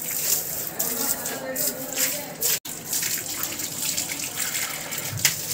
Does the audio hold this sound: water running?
yes